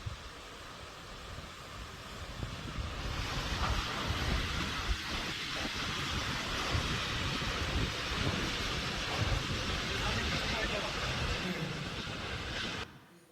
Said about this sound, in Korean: 여기 링말라라고 하는 폭포인데